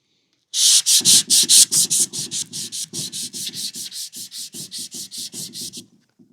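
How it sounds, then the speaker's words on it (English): Sandpaper rubbed by hand along a knife blade, lubricated with WD-40, in close, steady back-and-forth strokes: about two dozen even rasping passes, quicker at first and then settling into a regular rhythm, with no talking. "you just keep on sanding till this gets loaded up"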